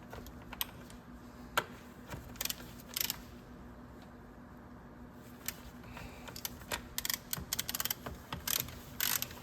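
Ratchet work during washer fluid tank removal on a 2020 Volvo VNR truck: scattered quick clicking bursts of the mechanism, close and moderately faint, with a steady low hum underneath and no talking.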